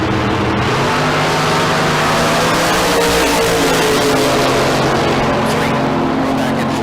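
A Super Pro Dragster drag racing car at Tucson Dragway blasts out a loud, sustained engine roar, dense and harsh from start to finish, with a brief surge in the middle.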